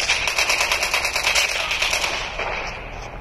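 Rapid automatic gunfire in the Call of Duty Mobile video game, a steady stream of sharp rattling shots in quick bursts, loud and up front, tapering slightly toward the end.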